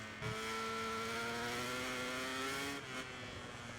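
A racing motorcycle engine in MotoGP 24 revs high and steady, its pitch climbing smoothly as the throttle opens, then dropping briefly before picking up again, loud and close with no talk.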